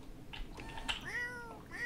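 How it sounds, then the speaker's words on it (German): A cat meows in The Sims 4 life-simulation game, a short series of rising and falling game-voiced mews heard close and clear with no talking. "Endlich mal eine Katze."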